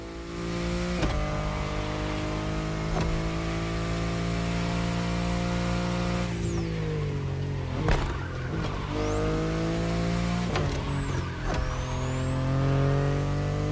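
A BMW i8 driving in The Crew Motorfest, with a steady engine drone that rises and falls through gear shifts, plus occasional tire squeals and whooshes and no talk.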